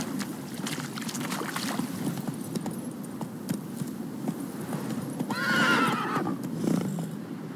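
Roach, a horse in The Witcher 3, galloping with steady rhythmic clip-clop hoofbeats close by, and a neigh rising briefly near the end over faint wind.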